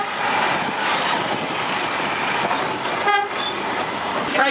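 The St Kitts sugar cane scenic railway train runs along its rails with a continuous loud rumble and rattle, and a short horn-like tone sounds near the end.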